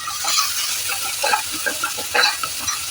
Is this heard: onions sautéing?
yes